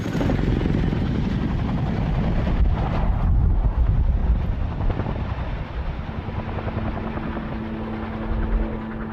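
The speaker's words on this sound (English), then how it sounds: "As the Chinook leaves" A Chinook helicopter departing a military base in Afghanistan, its loud rotor thump and turbine roar filling the air and easing off slightly over time, buffeted by wind, with a steady engine tone lingering near the end.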